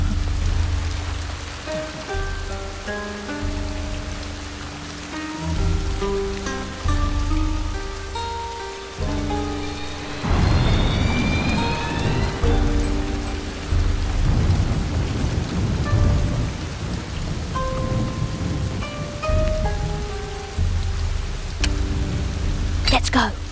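Steady rain patters and thunder rumbles in the stealth video game Shadow Tactics, in Suganuma Village, continuing throughout under game music tones and occasional voices.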